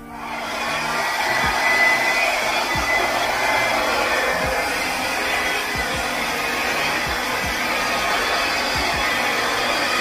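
A hair dryer blows steadily on wet acrylic pour paint, pushing pink, gold and white fluid art across a surface, a loud constant whooshing drone with light clicks and bumps beneath it.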